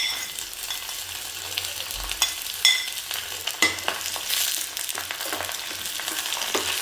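Chillies and curry leaves crackle and sizzle in hot oil for a fish curry, with soft spatter pops and scraping stirs over a low, steady frying hiss, close by and fairly quiet.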